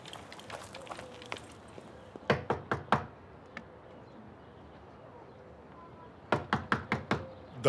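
Sharp knocks on a door in an Ottoman-era palace drama come in two rapid bursts of raps, each a quick series of hard, close hits, with quieter room ambience between them.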